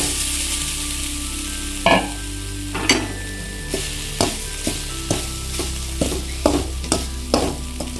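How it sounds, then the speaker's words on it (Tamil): Grated coconut roasts in a spoonful of ghee in a pan, giving a steady soft sizzle broken by about a dozen sharp scraping stirs at a fairly even rhythm, close up and with no talking. "அதில் 1 ஸ்பூன் நெய் ஊற்றி தேங்காய் வறுத்துக்கலாம்."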